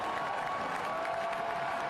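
A soccer stadium crowd cheers a goal at a USL League One match, a steady, dense roar of voices with some applause mixed in, heard from a distance throughout.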